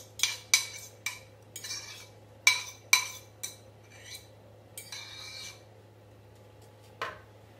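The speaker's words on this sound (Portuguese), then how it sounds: "E vamos misturar tudo isso aqui" Apple salad is tossed with dressing, with a utensil scraping and clinking against the bowl in a string of sharp, close taps and rubs over a steady low hum.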